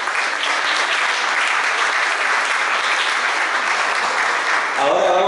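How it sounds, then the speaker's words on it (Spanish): Loud, dense applause from a large festival crowd at the Festival de Coquimbo for the performers, a continuous roar of clapping with a voice starting to speak right at the end. "Un fuerte aplauso para ellos."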